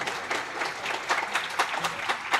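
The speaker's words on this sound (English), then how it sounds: "A big round of applause to our interns." Audience applause at a dental institute's graduation ceremony and annual day, a steady wash of hand claps from a sizeable indoor crowd, moderately loud and continuous for a couple of seconds.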